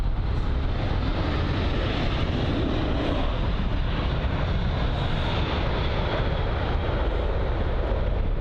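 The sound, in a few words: airliner touching down on runway 27 right at London Heathrow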